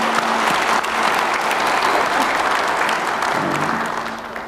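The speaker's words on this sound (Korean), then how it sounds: "우리 격려의 박수 한번 부탁드립니다" A crowd at an official gathering with the president and city mayors claps in a broad, sustained round of encouraging applause. It stays loud and even, then tapers slightly at the end.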